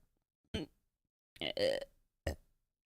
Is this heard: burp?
yes